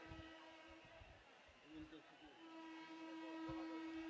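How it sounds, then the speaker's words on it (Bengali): A train approaches with a sustained horn or whistle tone that sounds, breaks off, and returns louder and steadier toward the end, over low rumble and background talk. "সাবধানে থাকবেন, ট্রেন আসতেছে"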